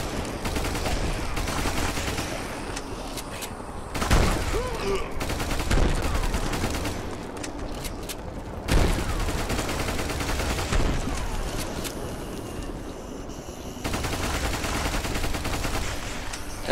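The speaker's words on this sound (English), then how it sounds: "At first I was thinking these explosions are just for the effect, but no." Battle explosions and rapid gunfire in the video game Ultimate Epic Battle Simulator on a zombie map, a dense continuous barrage with heavier booming bursts around four, six and nine seconds.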